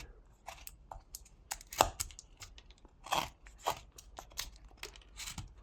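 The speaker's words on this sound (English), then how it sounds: "So I'm pressing the blade into the wood, making a stop cut, remaking the cut, going deeper each time." A knife blade pressed repeatedly into wood while whittling a small duck, making deepening stop cuts: a series of short, close, dry crunching and snapping cuts at irregular intervals, with no talking.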